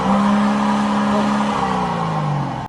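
A car with an aftermarket modified exhaust revs loudly and continuously for nearly three seconds, a throaty engine tone rising and falling close by before cutting off abruptly; stopped by police in Konya.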